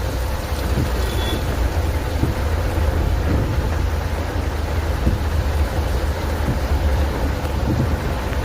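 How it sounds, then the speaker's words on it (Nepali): Heavy monsoon rain pours around a moving vehicle near Tarahara bazaar, Nepal, making a steady, loud broadband wash with a constant low rumble underneath and no voices. "बबाल पानी पर्दैछ अहिले।"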